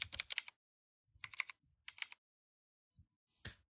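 Quick bursts of typing on a computer keyboard, three short clusters of crisp close key clicks separated by silence, then a couple of isolated taps.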